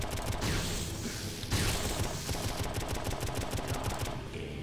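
Rapid booming and crackling cannon fire in the video game Painkiller: Resurrection, repeated blasts rattling in quick bursts over a dense, noisy background with no talking.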